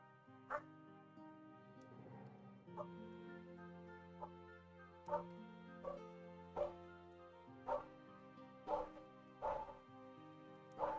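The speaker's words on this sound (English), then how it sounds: "Sorry about the dog barking from over the road." A dog barks from across the road, repeated single barks at a regular pace, distant and fairly faint over a low indoor hum.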